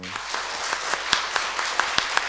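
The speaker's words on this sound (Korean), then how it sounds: "인사할 때 힘차게 축복의 박수 해주시기 바랍니다." A church congregation at a Sunday worship service gives blessing applause during a greeting, with steady massed clapping and sharp individual claps standing out over a continuous crowd wash.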